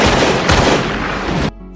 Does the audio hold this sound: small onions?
no